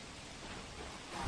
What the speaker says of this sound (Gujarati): સુરત શહેરમાં વહેલી સવારથી ધોધમાર વરસાદ જોવા મળી રહ્યો છે